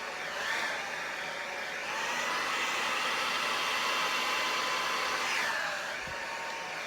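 A hair dryer blows steadily for several seconds, a loud, even whooshing rush with a slight shift in pitch partway through, used to push paint outward across a surface in a Dutch pour.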